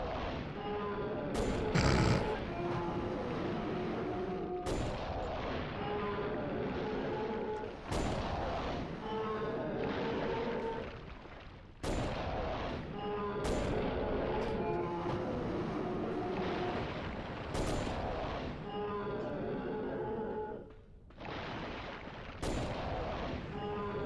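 Heavy gunfire in the PlayStation game Dino Crisis 2 (2000), loud repeated blasts at irregular intervals over a continuous rumbling game background.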